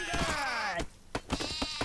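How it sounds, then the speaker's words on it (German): Sheep bleat several times in Craft the World, wavering game calls in the first second followed by shorter bleats and thumps, with speech over them. "Hier sind ganz viele Schafe."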